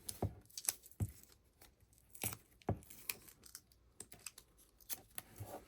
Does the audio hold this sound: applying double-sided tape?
yes